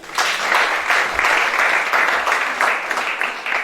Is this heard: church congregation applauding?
yes